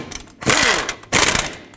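Two short bursts of a power tool run down the caliper bracket bolts on a 2008-2010 Ford F-250 front brake job, each burst loud and whirring with a pitch that sweeps downward as the bolt seats.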